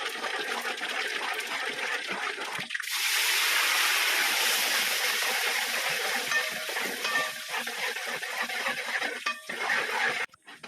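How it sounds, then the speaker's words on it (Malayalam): Red chillies frying in hot oil for a sadhya-style mango pickle, a loud steady sizzle that swells after a sharp drop into the pan and continues close up with faint clinks. "ഇനി നമുക്ക് ഇതിലേക്ക് ചുവന്ന മുളക് ഇട്ട് കൊടുക്കാം."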